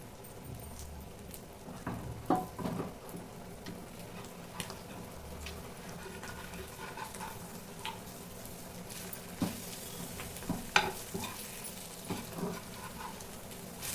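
Chicken pieces left unstirred in a pan for chicken curry, giving a soft sizzle with scattered light pops and crackles, faint and steady throughout with no talk.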